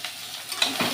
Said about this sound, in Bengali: তো পেঁয়াজটা সামান্য একটু ভাজা হয়ে নিই